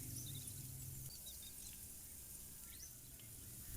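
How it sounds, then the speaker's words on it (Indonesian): Frozen homemade nuggets fry in hot oil with a quiet, steady sizzle and fine crackling hiss that holds throughout, with no voices. "Goreng di minyak panas. Goreng sampai garing dan terlihat lebih kecoklatan."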